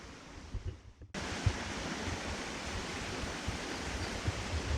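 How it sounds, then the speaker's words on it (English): Steady broadband rushing of flowing water, close and continuous, beginning abruptly after a brief quieter moment. "Can see there is fresh water running."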